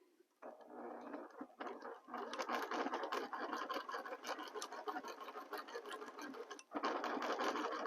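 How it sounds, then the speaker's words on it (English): A sewing machine stitches in rapid, continuous runs with a buzzing, clattering needle rhythm, close and loud, briefly pausing near the start and again before resuming. "And start sewing."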